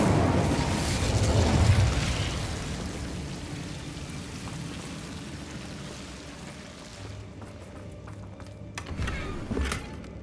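An Incendio fire spell cast in the video game Hogwarts Legacy erupts as a loud, roaring broadband whoosh that swells early, then fades into a lower rumble, with a second, shorter flare near the end.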